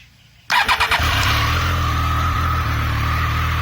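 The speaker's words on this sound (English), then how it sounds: "This exhaust is slightly louder." A Triumph Street Triple 765 motorcycle starts with a sharp burst of revs, several quick blips, then settles into a loud, steady close-up idle from its exhaust.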